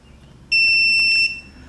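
A single sharp, high-pitched electronic beep from a tire pressure sensor alarm, lasting under a second, then quiet.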